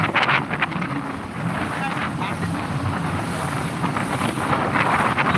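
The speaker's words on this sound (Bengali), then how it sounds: "প্রচুর পরিমাণে আজকে বাতাস মেঘলা ছন্ন আকাশ" Strong wind sweeping across an open haor wetland, buffeting the microphone in loud, steady roaring gusts for the whole stretch.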